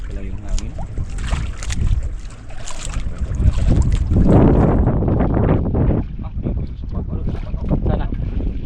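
Strong wind buffets a small fishing boat at sea, roaring and gusting against the microphone with water noise, loudest midway, while people talk nearby.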